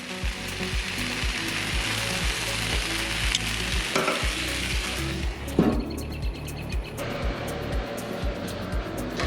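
Roasted salsa vegetables sizzle and fry steadily in a hot pan, a continuous close crackle with occasional scraping or stirring clatter, no talking.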